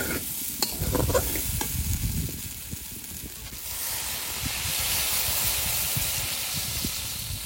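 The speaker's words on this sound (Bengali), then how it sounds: "এবার কচুটা একটু ভালো করে ভেজে নেব।" Chunks of taro fry in a pan while a spatula stirs them: a loud close sizzle with scraping strokes early on, then settling into a steady hiss of hot oil. No one speaks.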